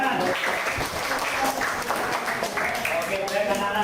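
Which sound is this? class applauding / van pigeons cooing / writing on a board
class applauding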